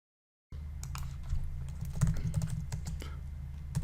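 Keys clicking on a computer keyboard as a pytest command is typed, a quick irregular run of light taps over a low steady hum, close and fairly quiet after a brief silence.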